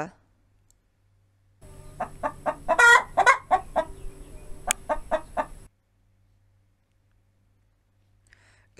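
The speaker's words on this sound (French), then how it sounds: "Une poule et des poussins." Several short clucks from a hen with chicks in a farmyard, a burst of close, rhythmic calls lasting about four seconds with a few higher peeping notes mixed in, then quiet.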